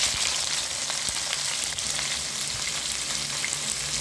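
Three large onions fry in ghee, giving a loud, continuous, close sizzle with a few faint stirring clicks and no voices.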